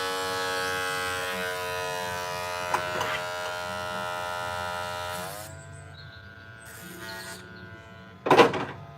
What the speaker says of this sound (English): I usually switch over to the safety clipper. This one is loud as frick.